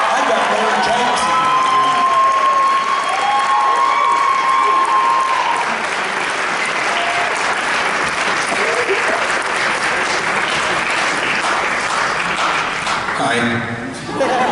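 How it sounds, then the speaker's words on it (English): Sustained audience applause with cheering at the closing ceremony of TeslaCon 12, a steampunk convention at Hawthorne Manor; dense, loud clapping fills the whole stretch, with a few voices calling out above it and the applause tapering near the end. "A big round of applause."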